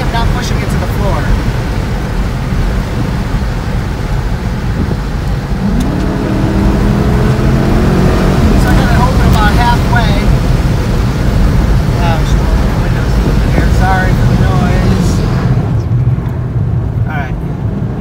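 A 2015 Dodge Challenger Hemi Shaker accelerating under moderate throttle, its engine droning steadily and close throughout while voices talk over it inside the cabin.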